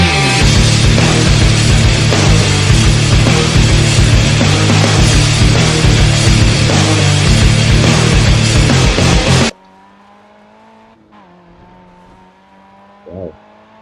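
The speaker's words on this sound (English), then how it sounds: "It doesn't look as if I'm going to avoid the accident at all." Racing in Grid 2 with a Ford Focus, loud engine roar, tire noise and crash impacts in a busy pileup, then an abrupt cut to a quiet low hum with a faint short rise near the end.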